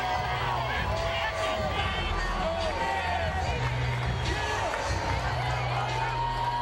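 Crowd at the Evander Holyfield vs James Toney heavyweight boxing bout in 2003 murmurs and stirs mildly as a fighter appears, a low steady babble with scattered shouts and claps, distant, under a commentator's voice.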